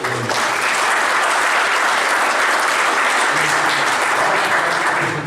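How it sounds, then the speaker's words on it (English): Church congregation applauding, a dense, loud, sustained burst of clapping from many people, steady throughout before tapering at the end. "you guys need to give yourself an applause for that"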